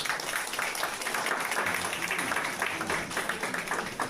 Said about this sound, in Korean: 여러분들 큰 박수로